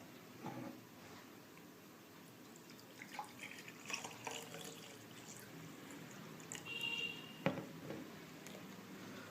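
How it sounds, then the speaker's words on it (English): Water is poured into a glass holding a wooden stick, with faint splashes and trickles, a few clinks and drips over quiet room noise. "Now pour water in the glass."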